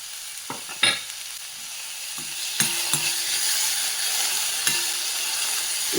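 Chopped onion and tomato sizzle and fry in a pan, a steady close hiss with scattered sharp crackles and a few spatula scrapes, no voices.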